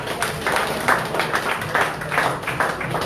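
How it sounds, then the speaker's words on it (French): An audience at an art exhibition opening for Jean-Michel Loutoby's Yorubakarayib show claps steadily, a dense patter of many hands sustained throughout, somewhat distant in a reverberant room. "Je vous demande de l'applaudir."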